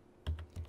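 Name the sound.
typing Java code on a computer keyboard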